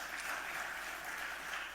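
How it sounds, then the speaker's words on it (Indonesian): Faint, distant applause from a crowd at the PSSI football association congress, a soft continuous patter of clapping with no pauses. "Tepuk tangan buat kita."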